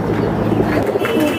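Young pigeons kept for sale give a soft, throaty coo close by, low and rolling, with a faint higher chirp near the end and no talking.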